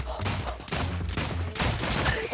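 Gunfire in the ROUNDS video game comes in rapid bursts of close, punchy shots, loud and dense with brief gaps between volleys.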